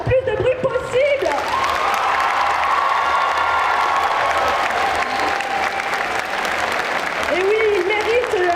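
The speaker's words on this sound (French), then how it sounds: "ils méritent tous vos applaudissements" A loud, dense wave of audience applause with cheering and whoops builds and holds steadily for several seconds at a cosplay contest at a geek convention in Bordeaux, with a host's voice briefly at the start.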